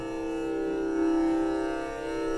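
Tanpura drone played from a phone app, a steady sustained hum of layered harmonic tones, quiet and even, gently swelling and fading without talk.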